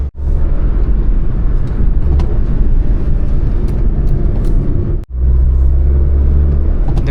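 Maruti Alto K10 car driving uphill on a mountain road in Shimla, setting up to overtake: steady loud engine and road rumble from inside the cabin, nearly continuous, with a brief dip near the start and another around five seconds.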